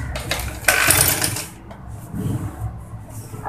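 A sewing machine stitches fabric for a woman's pajama pant, its motor whirring in bursts with a pause in the middle, close and moderately loud.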